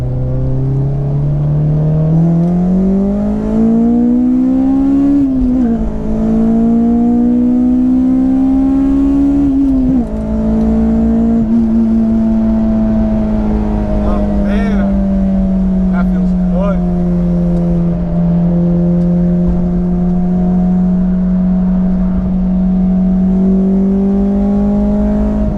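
An Acura RSX Type-S on the move, its engine note close and continuous, climbing in pitch over the first few seconds as it accelerates, then holding a steady drone while cruising.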